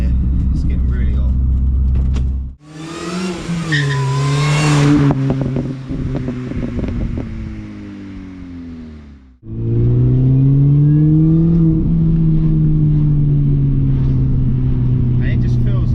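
A Mini R53 Cooper S on the road, its engine droning and climbing in revs as it pulls, with a break mid-run and then a steady loud rumble, heard from inside the car.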